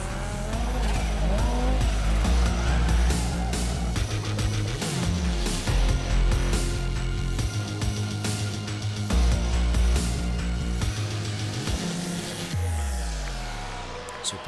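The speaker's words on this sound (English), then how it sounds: "fan favourite of the Race of Champions is the Audi S1 Group B rally car" An Audi S1 Group B rally car races at the 2014 Race of Champions in Barbados. A loud, close engine snarls through rapid revs and gear changes, with tire squeal and skidding mixed in.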